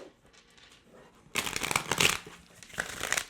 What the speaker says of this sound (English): these cards are shuffling easy